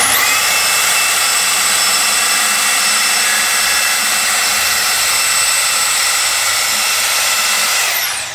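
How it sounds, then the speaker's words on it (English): A portable bandsaw cuts through metal stock about 24 inches long, giving a steady, loud, high-pitched whine and rasp that runs unbroken for about eight seconds and then cuts off as the blade stops. No one talks over it. "if you guys haven't used a portable bandsaw, these things are awesome"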